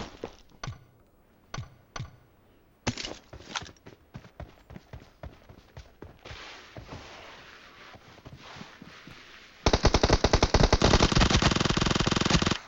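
Video game gunfire in a competitive match: scattered single sharp shots give way to rapid bursts and then a loud continuous automatic volley, with keyboard and mouse clicking mixed in.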